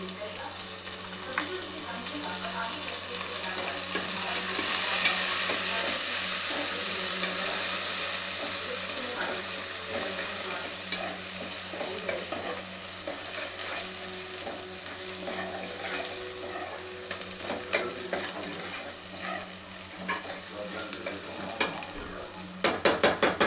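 Chicken sengala curry frying in a pan while being stirred and mint is added, a continuous close sizzle with scraping stir strokes, slightly louder early on and a few clatters near the end.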